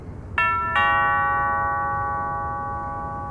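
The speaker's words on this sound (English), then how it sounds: "Hesitantly, I rang the bell, and waited." A doorbell sounds two quick electronic chimes, the second tone ringing out and slowly fading into quiet.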